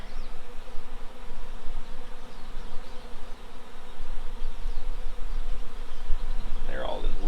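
Honey bees drone steadily around an opened hive during an inspection, a dense close buzz throughout with a brief louder flyby near the end; no words spoken.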